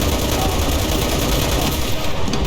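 Gunfire in the WWII shooter game Enlisted, British paratroopers in action: dense, continuous rattling shots packed close together with no gaps, loud throughout under faint talk.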